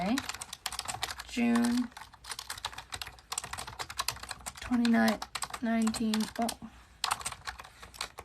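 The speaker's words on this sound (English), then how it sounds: "The keyboard is Logitech." Typing on a Logitech K520 keyboard gives quick, steady key clicks under a person reading aloud, with the taps carrying on between spoken phrases.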